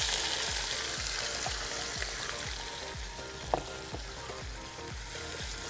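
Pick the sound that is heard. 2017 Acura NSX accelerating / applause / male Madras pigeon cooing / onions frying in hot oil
onions frying in hot oil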